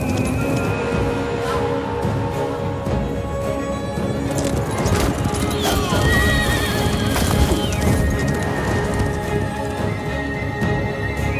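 Horse galloping with hooves clip-clopping and loud neighs in a Total War video game intro, the horse sounds set within a dense battle soundscape and music throughout.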